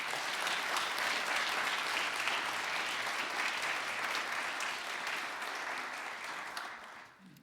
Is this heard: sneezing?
no